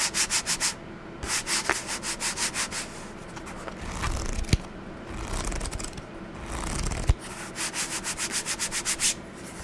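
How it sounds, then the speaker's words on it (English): A hand rubs a book's cover for ASMR, making rhythmic, close brushing strokes in fast regular runs, with slower scraping passes and a couple of sharp taps in between and no talk. "Just pull out a book and rub its cover."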